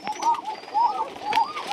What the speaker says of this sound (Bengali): দেশি কোকা কবুতর লাল